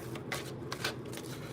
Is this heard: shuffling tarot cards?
yes